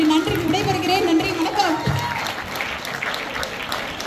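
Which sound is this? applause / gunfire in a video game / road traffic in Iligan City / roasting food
applause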